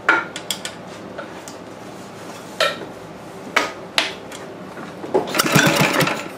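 A Sears and Roebuck Briggs engine being tried for a start gives a few sharp clattering bursts and knocks, then a rising rough mechanical rumble near the end, recorded close and loud.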